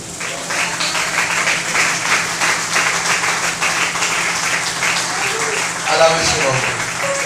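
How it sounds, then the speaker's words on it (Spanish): A church congregation applauds during a Spanish-language worship service, with steady, dense clapping throughout and a voice rising over the applause toward the end. "Dale un aplauso al Señor."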